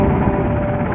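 A Jolly rescue helicopter roars loud and close in a steady, dense rotor and engine drone during a combat search and rescue demonstration at an air show.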